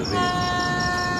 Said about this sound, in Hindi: ट्रेन पहुंची अयोध्या के एंड पे